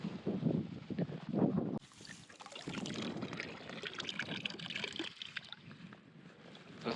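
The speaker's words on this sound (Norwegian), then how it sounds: "Og så var det en tomboks som lå og laget lyd i bølgene." An empty tin can knocking and rattling at the edge of an Arctic river, lapped by small waves, with soft watery trickles and irregular light clinks.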